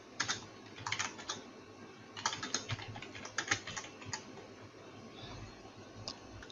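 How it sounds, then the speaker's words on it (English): Keys clatter on a computer keyboard as an email reply is typed, with quick bursts of clicks separated by short pauses, close and fairly quiet, with no voices. "I can key in my message to be sent to this email address."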